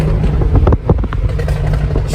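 A Volkswagen Scirocco's exhaust pops and bangs in quick, irregular loud bursts close by, over a rumbling idling engine.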